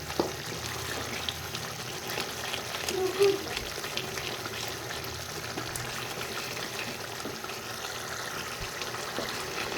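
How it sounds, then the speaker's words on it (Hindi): Spiced masala paste for chickpea cholay frying in oil in a pot, a steady broadband sizzle running throughout at a moderate level, with a small bump near the middle. "थोड़ा थोड़ा ऑयल आना शुरू हो गया है, लेकिन हमें इससे थोड़ा और ज़्यादा इसे भूनना है।"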